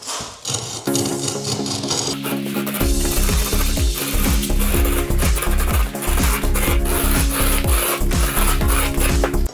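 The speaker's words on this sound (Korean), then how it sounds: "황토 바닥이라 이렇게 긁으면 이 크랙 같은 경우가 잘 긁어집니다" A tool scrapes and grooves cracks in a yellow clay hwangto floor, producing loud, close rasping strokes in a repeated rhythm with a rough, gritty texture throughout.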